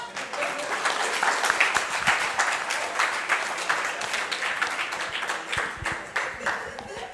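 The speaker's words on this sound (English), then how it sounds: "Claps." An audience at a startup stories session at a public event claps, a dense sustained round of applause from a crowd, fairly close, with some voices mixed in.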